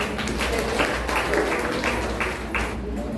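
An audience at an evening program on the eve of Babasaheb Ambedkar's birth anniversary bursts into applause after a sung song, a dense wash of clapping that swells and holds steady over the full stretch.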